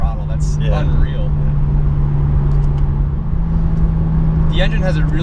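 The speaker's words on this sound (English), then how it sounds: "The engine has a really like good like sort of throaty intake noise too." Steady throaty intake and engine drone from a 2016 Porsche 911 Turbo S cruising at a constant pitch, heard from inside the cabin with a faint voice briefly over it.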